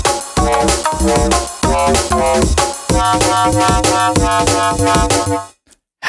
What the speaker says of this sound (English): here's an example of some of the real sounds you can make using the MC101, such as drum and bass